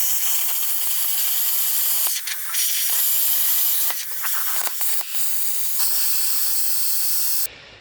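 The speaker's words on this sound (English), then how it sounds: "get out the plasma cutter, and let's start burning off some rusty steel" A plasma cutter burns through rusty steel on a Chevy 2500 frame during front suspension removal, giving a loud, steady hiss with crackling bursts throughout that cuts off abruptly near the end.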